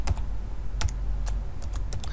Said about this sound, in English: type in the material